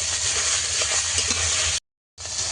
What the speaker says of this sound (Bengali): এই মাছ দিলেই আমার সব মাছ ভাজা হয়ে যাবে